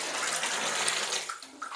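Water pours steadily into a bathtub to check whether a drain clog has cleared, a continuous close rushing splash that thins slightly toward the end, with no voices.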